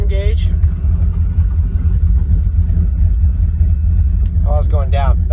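A 2000 Mach One 314 Combo boat engine runs with a steady, loud, low rumble on the water, its pitch holding fairly even throughout, with voices talking briefly at the start and again near the end.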